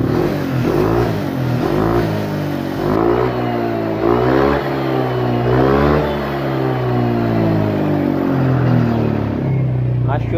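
A Honda Click 125 scooter engine, freshly remapped, revs repeatedly, pitch rising and falling with each twist of throttle, loud and close, with a voice talking over it.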